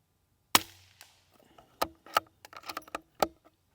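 Several sharp .22LR rifle shots from a Springfield 2020 fired at a paper target, spaced irregularly with a few seconds between cracks, with faint handling clicks and rustling in between.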